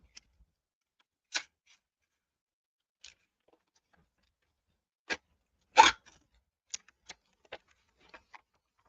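Scissors cutting paper for reverse piano hinge book binding: a handful of sharp, isolated snips with gaps between them, close and fairly quiet in an otherwise silent room.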